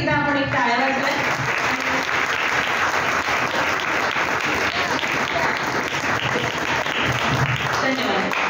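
An audience at a college science-club celebration of Einstein's birthday applauds the organisers, a dense, loud, even round of clapping lasting several seconds, with a brief voice at the start and a little talk near the end.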